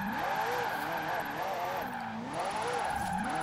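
A Ferrari drifts in Forza Horizon 4, its tires squealing in repeated wavering sweeps over a loud, continuous engine roar; the drifting carries on throughout with no break.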